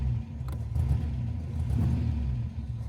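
A Daimler Dart's engine runs rich with the choke out, a close, deep, uneven rumble with slight surges throughout.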